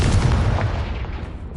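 A Confringo fire spell explodes in the Hogwarts Legacy video game: a loud, close blast with heavy low-end rumble that rolls and slowly decays over a second and a half, with no voices over it.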